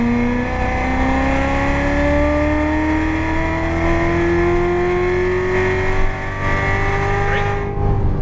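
Corvette Z06 at Las Vegas Motor Speedway, its engine roaring loud and close as it accelerates steadily through the gears, pitch climbing in long smooth sweeps with no talk over it.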